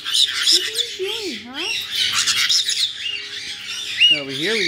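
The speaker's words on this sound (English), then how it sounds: "Over here, we got Spiky Bird" Pet birds squawk loudly and repeatedly up close, harsh rising calls with some chirps, while a person speaks softly in between.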